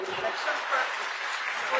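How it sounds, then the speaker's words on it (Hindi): An audience claps steadily at a public event in Kerala, a continuous wash of applause with a voice audible faintly underneath. "एक बार ताली बजा दीजिए इनके लिए."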